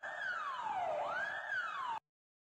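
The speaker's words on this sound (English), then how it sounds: "Let's make this even more crazy. And let's do a siren." Siren sound effect added during a short-film edit: a single loud wail that sweeps down, then rises and falls again for about two seconds, heard alone before cutting abruptly to silence.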